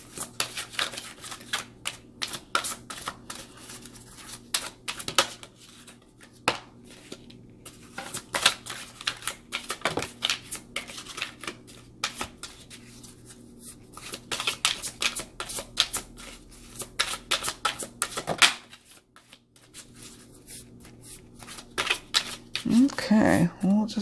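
A deck of tarot cards is shuffled and riffled in quick, close bursts of crisp flicking clicks with brief pauses, while someone speaks between the shuffles.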